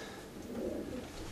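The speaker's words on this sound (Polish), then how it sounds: "Czyli gołąb uniwersalny." A racing pigeon gives soft, faint cooing in a quiet, brief stretch.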